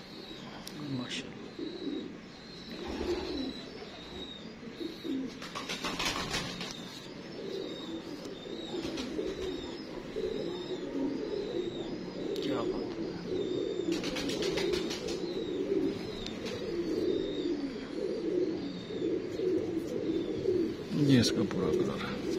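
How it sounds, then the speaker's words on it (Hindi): Breeder pigeons in a loft give soft, low cooing that runs along under a voice, with scattered wing flaps and light chirps breaking through now and then. "बड़े ही शानदार कबूतर है जी।"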